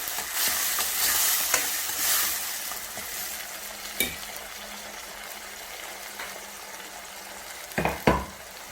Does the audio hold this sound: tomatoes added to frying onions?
yes